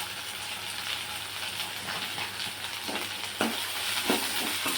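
Boiled potatoes and green chillies simmer and sizzle in a besan curry, with a steady frying hiss, occasional stirring clinks and scrapes near the pan, no voices.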